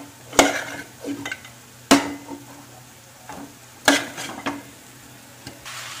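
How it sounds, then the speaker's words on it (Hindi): Mutton being stirred in a pan with ginger, garlic, turmeric and salt masala for a ghee roast: a few distinct scraping, clattering spoon strokes at irregular intervals over a faint sizzle, close and fairly loud, with no talking. "इसको अच्छे से मिक्स कर लेंगे, पूरा गोश्त में कोटिंग होना मसाला"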